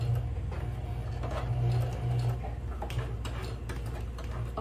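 Sewing machine stitching a straight line across a shopping bag, a steady close whirring with fine rapid ticking, running continuously with slight surges.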